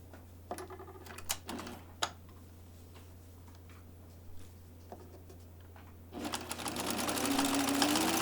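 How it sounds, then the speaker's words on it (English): After a few soft ticks and handling clicks, a sewing machine starts up near the end and hums steadily as it stitches a quarter-inch seam around a sleeve, close and growing louder. "stitching at a 1/4 inch all the way around"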